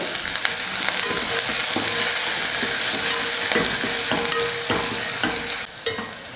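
Curry leaves, garlic cloves and shallots frying in oil after fenugreek seeds crackle with a loud, close sizzle, broken by repeated scraping and stirring strokes, easing slightly near the end.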